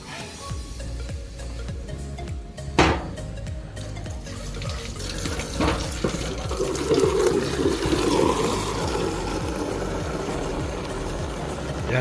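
Water is poured into a bitter Cipotril medicine mixture for birds, a soft continuous trickle and splash at low level, with a few sharp knocks and clatters along the way.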